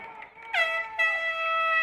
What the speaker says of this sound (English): And there's the air horn.